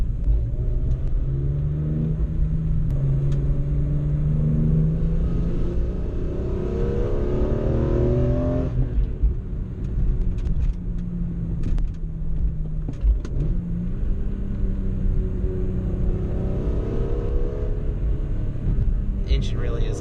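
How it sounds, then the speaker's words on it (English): A BMW E46 M3 with 195K miles, its engine revving and rumbling as it accelerates while driving, heard from inside the cabin with someone talking over it. "Engine really is a lot of fun."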